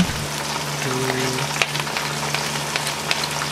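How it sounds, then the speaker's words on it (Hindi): Ginger, garlic and green chillies fry in oil in a pan while cooking aloo karela, giving a close, steady sizzle with faint crackles over a low background hum. "अब हम इसमें अदरक लहसुन डालेंगे और थोड़ा सा फ्राई करेंगे।"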